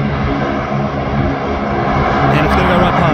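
An airliner at Canberra International Airport roars past close and loud, with a steady, dense engine noise filling the whole clip and swelling slightly toward the end.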